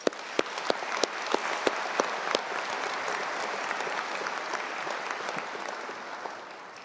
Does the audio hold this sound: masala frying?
no